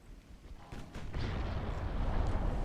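Nine-inch naval guns firing in the warship game Ultimate Admiral Dreadnoughts, a couple of deep booming reports that swell into a heavy, sustained low rumble of distant gunfire and shell impacts, growing louder toward the end.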